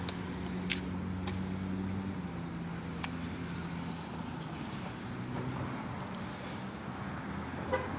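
Road traffic moves steadily past a car wreck at Fort and Goddard in Lincoln Park, a continuous engine drone and road rumble with a few faint clicks and knocks and no voices.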